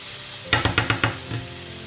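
Iberian pork pluma being stirred and browned in a hot pan: five quick scraping stirs in an even rhythm over a soft continuous sizzle, then a fainter sixth, close and clear.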